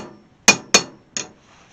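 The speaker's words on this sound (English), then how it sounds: "try to kind of use it like a body hammer. I'm just using the extension." Three sharp metallic taps as a tool extension is used like a body hammer on the stainless hood trim of a 1968 AMX, close and distinct with brief ringing decay and quiet gaps between strikes.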